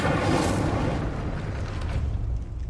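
An Incendiary fire spell bursts in Hogwarts Legacy, a loud broad whooshing blast that roars and slowly fades, with no talk.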